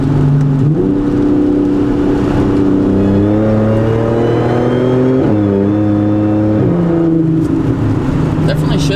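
Car engine revving and shifting through gears while driving, a loud close-up drone whose pitch climbs, drops sharply and climbs again, likely from inside the cabin.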